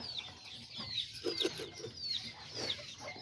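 Miniature chickens, small Azteca and Serama birds, cluck and chirp in quick repeated bursts, close and moderately loud, with several birds calling over one another.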